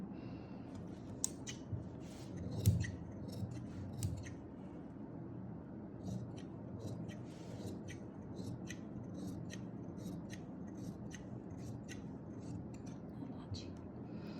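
Scissors cut through slippery lined suit fabric, making a run of quiet, crisp snips spaced irregularly over a soft background. A faint voice can be heard at a low level.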